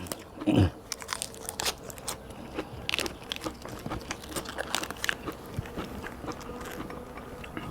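Crunchy food is bitten and chewed close to the mic, with one loud crisp bite early on followed by a steady run of smaller crackling chews.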